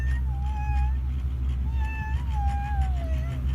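A kitten meows twice, thin rising-and-falling cries over a low rumbling vehicle drone, recorded outdoors near a mountain cable car.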